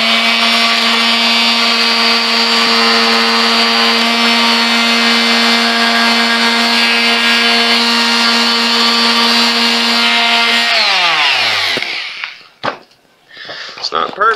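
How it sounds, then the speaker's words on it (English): A power sander with 80-grit paper works a rounded pressboard edge during a travel trailer renovation. Its loud, steady motor whine runs close for about eleven seconds, then spins down, followed by brief handling knocks. "me using 80 grit sandpaper, I'm able to really get it rounded"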